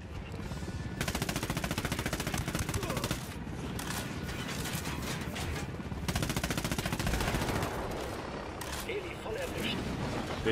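Rapid bursts of automatic gunfire in Ghost Recon Wildlands, loud and sustained in long strings, with a voice talking over parts of it.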